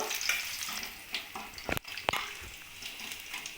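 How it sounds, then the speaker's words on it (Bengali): Crushed garlic and dried red chillies frying in hot oil for a red amaranth leaf curry, a continuous close sizzle broken by a couple of sharp utensil clinks. "রসুন আর শুকনো লঙ্কাটা আমি ভালো করে ভেজে নেব"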